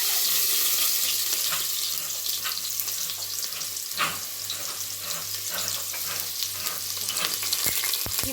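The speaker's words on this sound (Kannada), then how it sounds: "ಸೊ ಎಣ್ಣೆ ಚೆನ್ನಾಗಿ ಕಾದಿದೆ. ಇವಾಗ ಸ್ವಲ್ಪ ಈರುಳ್ಳಿ ಹಾಕ್ತೀನಿ." Onions sizzle in hot oil in a pan for a village-style egg and chicken sambar, a continuous close crackle and hiss with scattered pops and stirring scrapes, no voices.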